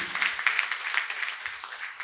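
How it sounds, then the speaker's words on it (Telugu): Audience applause at a Telugu meditation music gathering, a steady patter of many hands clapping at moderate distance for about two seconds, fairly soft and even. "మీ చప్పట్ల ద్వారా తనకు శుభాకాంక్షలు"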